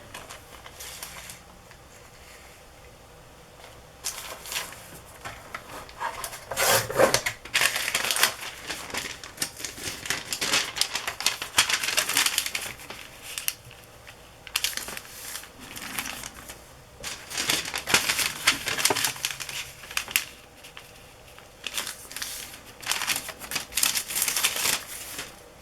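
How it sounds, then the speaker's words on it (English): Scissors snip through paper for a vintage mini journal, close and crisp, in uneven runs of rapid cuts separated by short pauses and soft rustling, with no talking. "I don't usually do a video of cutting papers"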